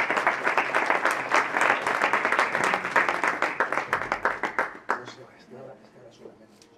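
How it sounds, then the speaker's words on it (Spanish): A lecture audience at a talk on Spanish nobility gives a round of applause, brisk dense clapping that thins into a few scattered claps and dies away near the end. "pido un aplauso para Lidia y Lidia Anes"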